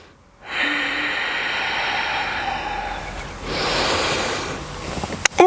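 Breathing during a vinyasa yoga session for hip opening: a long, airy, audible breath stream that swells again midway, close to the microphone, ending with a small click.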